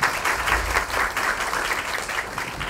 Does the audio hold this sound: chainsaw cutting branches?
no